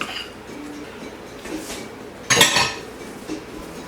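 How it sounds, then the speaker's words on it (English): Mixture for a coconut cream pie being scraped from one bowl into another, with soft utensil scrapes and a sharp clatter of a spoon against the bowl partway through, close and fairly quiet. "So I'm going to put this in another bowl"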